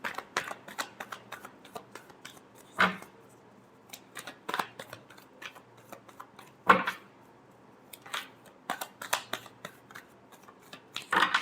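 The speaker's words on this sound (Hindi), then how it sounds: "Last shuffle." Tarot cards shuffled by hand, with repeated crisp riffles and slaps at an uneven rhythm, close and fairly quiet, with no talk.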